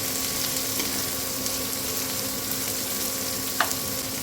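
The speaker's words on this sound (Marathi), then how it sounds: "कांदा पण आपल्याला छान परतून घ्यायचा आहे ट्रान्सपरंट होऊसवर परतून घ्यायचा आहे" Chopped onion sizzles steadily in hot oil in a pan while being sautéed for a village-style drumstick pithla, a continuous close frying hiss with one brief clink near the end and no talking.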